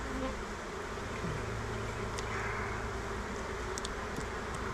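Honeybees hum in a dense, steady swarm during an open beehive inspection with an old queen, close and continuous, with faint handling noises over the buzz.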